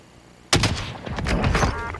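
Submachine gun fire in Call of Duty starts abruptly as a loud, rapid volley of close automatic shots and keeps going in dense bursts until the end, with no speech.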